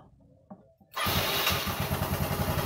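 A motorcycle engine wired with two batteries starts on its electric starter: a short, quiet crank, then the engine catches and settles into a loud, steady, pulsing idle close by.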